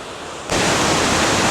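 A brook waterfall at True's Ledges near West Lebanon, NH, a steady broadband rush of falling water that swells abruptly from a quieter hiss to a full, close roar and holds evenly with no voices.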